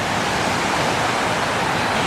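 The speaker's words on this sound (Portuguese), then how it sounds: "A queda d'água aqui é menor, mas é muito bonito o lugar" Small waterfall along a forest trail in Laos, a steady, dense rush of falling water, close and loud, with no voices.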